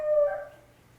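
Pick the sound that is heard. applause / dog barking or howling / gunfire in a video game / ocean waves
dog barking or howling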